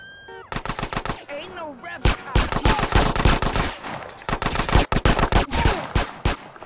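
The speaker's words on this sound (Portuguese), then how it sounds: "Quem tá atirando em mim, caralho?" Rapid bursts of automatic gunfire from GTA San Andreas Definitive Edition on PlayStation 5, loud and close, coming in dense volleys with short pauses.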